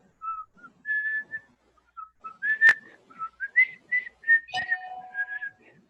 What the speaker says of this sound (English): Akra is quietly going to whistle